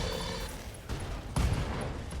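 In the mech game RogueTech, SRM ammo explodes amid weapons fire, giving a continuous roar of blasts with sharp bursts landing near the end, loud and unbroken, with no talk.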